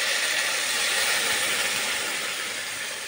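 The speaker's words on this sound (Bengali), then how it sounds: "এখন আমি এর মধ্যে দিয়ে দেবো জল, পরিমাণ মতো একটু জল দিয়ে দেবো।" Water hitting a hot pan of cooking komli greens bursts into a loud, dense rush of steam and hiss that holds steady and eases off slightly at the end.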